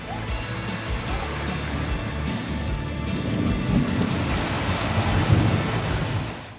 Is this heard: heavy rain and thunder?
yes